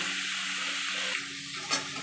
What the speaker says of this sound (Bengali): একদম হালকা করে আমি ভেজে তুলে নেব।